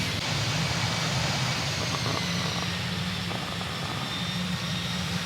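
A Boeing 757's jet engines roar steadily at full takeoff power, a constant broadband rush with a low drone, heard from inside the aircraft and unbroken throughout with no talk.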